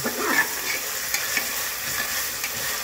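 Mutton and ginger fry in a pan with an even, close sizzle, broken by occasional light stirring scrapes and pops throughout.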